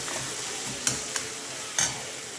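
Egg curry with tomato is being stir-fried in a pan, giving a steady soft sizzle with a few sharp clicks of a spatula scraping the pan, close and moderately quiet.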